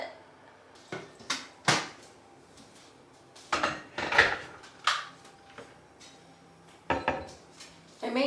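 A baking pan of banana bread is handled and slid into a home oven, with a series of close metallic clanks, knocks and scrapes in irregular bursts.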